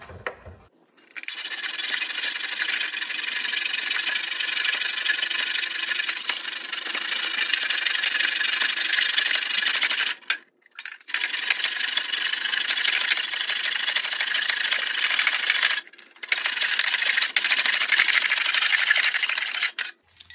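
A hand saw cuts subway tile held in a miter box, making steady back-and-forth rasping strokes that run close and loud for long stretches, with two short pauses between passes.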